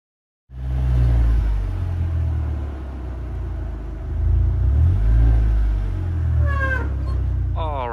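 Audi A4 B6 1.8T Quattro driving up a homemade ramp for an oil change, engine starting low and rumbling steadily with a couple of throttle swells, close and loud, with a brief high squeal near the end.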